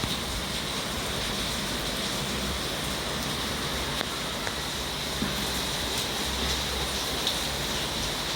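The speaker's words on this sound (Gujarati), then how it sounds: "અને અવાજ પણ તમે સાંભળી શકો છો વરસાદનો" Heavy morning rain falling outside a home, with streets flooded; a steady, dense hiss of downpour fills the whole stretch at an even level, with a few faint drips and taps standing out, no voices.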